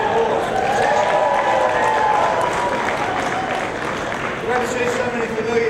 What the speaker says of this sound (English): Can we round of applause?